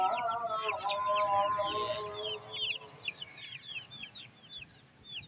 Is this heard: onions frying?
no